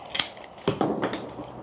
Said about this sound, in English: Then I'm going to get my pruners, which I haven't sharpened in 2 years.